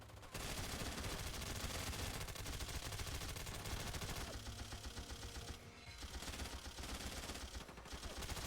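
Sustained gunfire in a tactical shooter game, rapid dense automatic bursts running almost without pause, loud and close throughout.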